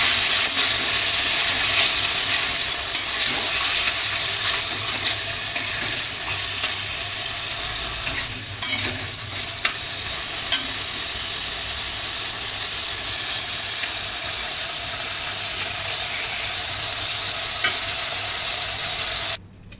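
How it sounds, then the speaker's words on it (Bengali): Paneer cubes lightly frying in hot oil, a steady, close crackling sizzle that continues unbroken, with a few sharp clinks of a utensil against the pan scattered through. "হালকা করে পনিরটা আমি ভেজে তুলে নেব"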